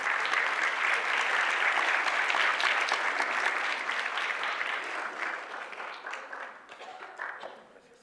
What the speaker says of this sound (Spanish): Les pido un aplauso para que nos acompañen aquí en el presidium.